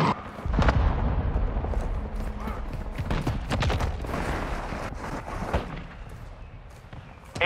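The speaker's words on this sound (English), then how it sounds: "Hostile cruise missile launched." Cruise missile strikes in Call of Duty MW II, heavy booming explosions and crackling debris rolling continuously through a dense battlefield din, with faint voice chatter underneath.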